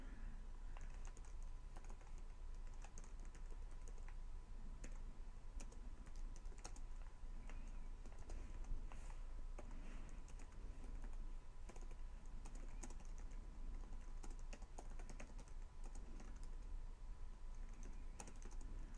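Steady keyboard typing, a dense stream of quick clicks and keystrokes continuing throughout at a constant level with no voices.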